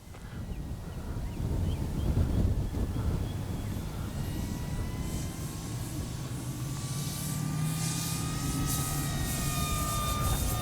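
A small FMS PA-18 Super Cub RC model airplane engine drones overhead, its high buzzing pitch rising and falling as it passes, over a windy low rumble.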